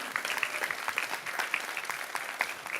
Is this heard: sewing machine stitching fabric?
no